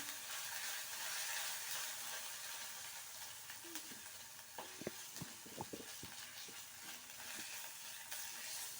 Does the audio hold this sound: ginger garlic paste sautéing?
yes